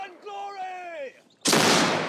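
Gunfire from the historical first-person shooter game Battle Grounds 3 arrives as one loud, sharp burst of noise near the end, coming after a stretch of tonal in-game sound.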